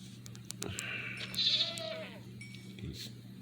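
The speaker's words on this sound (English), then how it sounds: "These goats are annoying." Goats bleating in the video game Minecraft Bedrock Edition, a few wavering calls in the middle of a stretch of faint game ambience and soft footsteps.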